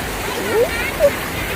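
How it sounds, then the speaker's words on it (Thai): A waterfall beside a newly opened cafe in Surin gives a steady, even rush of water in the background while voices talk excitedly over it. "อู้น้ำตกน้ำตก"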